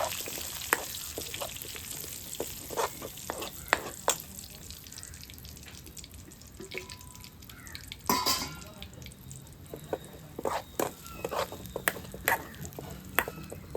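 Curry leaves are stirred and fried in hot oil in a pan for a Kozhikode-style tapioca curry, with a continuous soft sizzle broken by scattered crackling pops and spoon scrapes, close and moderately quiet.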